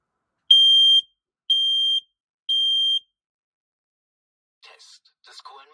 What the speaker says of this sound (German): Der Alarm ertönt laut.